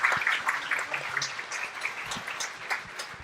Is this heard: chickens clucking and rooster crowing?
no